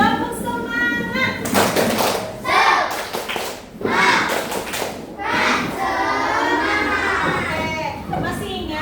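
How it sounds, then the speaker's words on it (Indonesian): Indonesian classroom of children standing for a rhythmic spirit clap, bursts of clapping and thumps mixed with loud children's voices and chanting, fairly close and busy throughout. "Tepuk semangat."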